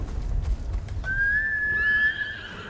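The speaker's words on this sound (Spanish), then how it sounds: "Venga, que vaya viniendo el caballo." A horse in the Ghost of Tsushima video game lets out one long, clear whinny that rises and wavers for over a second, over low rumbling hoofbeats and game ambience.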